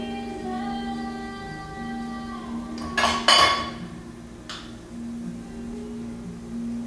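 Gluten-free flours mixed together in a bowl: a short cluster of clattering utensil-on-bowl scrapes and clinks, then a faint knock, over a steady low hum.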